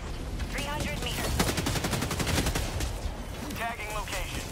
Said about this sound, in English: A man's shooting at me, though.